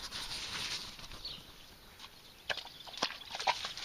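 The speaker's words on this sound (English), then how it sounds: "That's my horsey friend, Bluebell." A horse walks close by on boggy Dorset ground, its hooves giving soft, irregular clip-clops that grow a little more distinct toward the end, faint against outdoor background noise.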